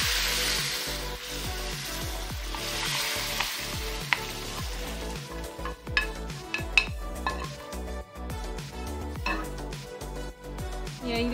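Parboiled lentils boil steadily in a cooking pot, giving a continuous bubbling hiss with occasional light clinks of a utensil against the pot.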